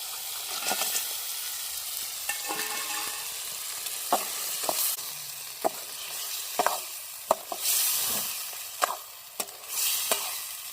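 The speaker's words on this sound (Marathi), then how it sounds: "आता कांदा शिजून झालाय आता खेकडी टाकून घेते लगेच" Crabs fry with cooked onion and coriander in a pan, giving a steady hissing sizzle broken by repeated sharp scrapes and knocks of a spoon stirring, close and without talk.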